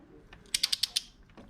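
A quick run of five sharp ratchet clicks while bolts are tightened on the bottom end of a Ford Focus engine, close and crisp against near silence.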